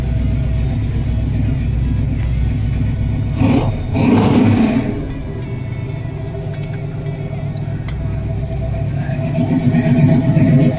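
A 1976 Trans Am with an electronic fuel injection conversion idles at high revs, a steady low rumble that briefly rises in a short rev before settling back to an even idle.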